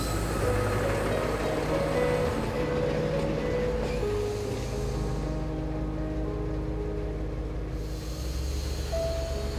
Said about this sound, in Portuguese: Não fosse a passagem diária deste comboio da linha do Douro